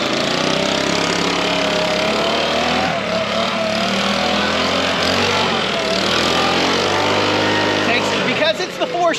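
A gas four-stroke backpack leaf blower, compared against a Stihl BG 86, runs loud and steady at close range with a fluctuating roar, then sputters and cuts out near the end.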